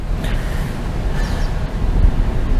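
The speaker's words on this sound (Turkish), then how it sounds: "rüzgar devam ediyor dedim ya" Strong wind on a beach after a storm blows steadily as a deep, continuous roar that buffets the microphone, with no voices.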